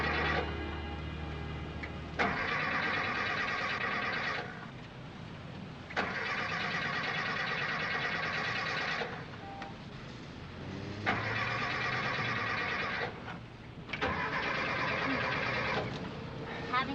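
A car engine cranks but fails to start, its ignition coil giving too little spark. The starter churns in four long bursts of roughly two seconds each, separated by short pauses, and the engine never catches.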